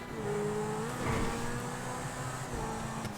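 Supercar engine from GTA 5 story mode, a steady droning hum with a faint rev swell midway, held at moderate loudness throughout with no talking.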